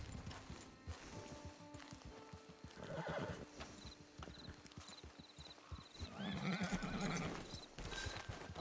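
A horse in the video game Red Dead Redemption 2 whinnies loudly and snorts while its hooves clip-clop steadily on the ground, the neigh swelling near the end over a faint game backdrop.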